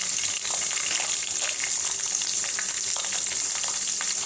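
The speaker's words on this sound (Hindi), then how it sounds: "इस दोनों को हम साथ में ही फ्राई कर लेंगे।" Carrots and peas frying together in a pan, a dense, steady close sizzle with a constant crackle of small pops and no voices.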